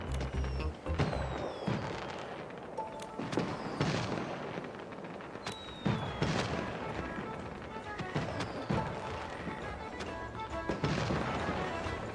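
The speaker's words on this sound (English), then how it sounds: "Vibrant fireworks, infinite fun!" Fireworks burst repeatedly in the video game Infinity Nikki, a string of booming pops and crackles spread irregularly over several seconds at moderate distance, with whistling launches between.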